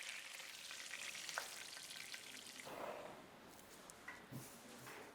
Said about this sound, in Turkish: Somonu diğer tarafında kızartın.